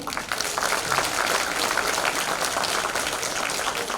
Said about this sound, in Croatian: Pozdravimo ih velikim pljeskom